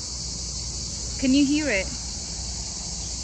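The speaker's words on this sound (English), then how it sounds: "listen to that, the crickets." Crickets chirp during a train journey from Athens to Volos in Greece, a constant high, shrill drone that runs the whole time, with a short spoken phrase rising briefly above it midway.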